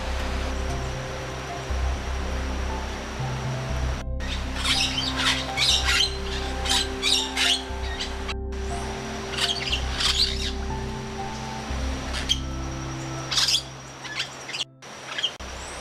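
Birds at an animal rehabilitation centre in the Amazon of Ecuador squawk and chirp in loud, overlapping bursts over a steady low hum, with harsh calls repeating throughout.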